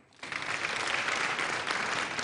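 Steady applause from an audience, a dense wash of many hands clapping that starts abruptly and holds at an even, loud level.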